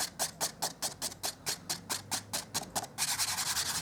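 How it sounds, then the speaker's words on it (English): An embossing buddy is rubbed briskly back and forth over a stamped card to clear away embossing powder, giving a close, rhythmic swishing of about a dozen even strokes that quickens toward the end. "I'm going to rub the embossing buddy over the top again"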